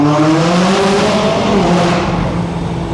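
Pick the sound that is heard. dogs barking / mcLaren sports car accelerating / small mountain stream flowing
mcLaren sports car accelerating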